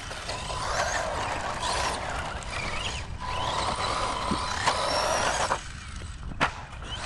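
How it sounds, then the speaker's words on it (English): A Team Associated RC10 4WD RC buggy on its first run, mechanical whirring and gear-like rattling from the drivetrain, steady and moderately close with a few sharp clicks and knocks. "I think that was an extremely successful first run of the RC10 four-wheel"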